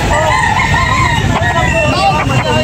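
Roosters crow loudly at Carbon Public Market in Cebu on a morning, long wavering cock-a-doodle-doo calls and clucking close up over market babble and talk.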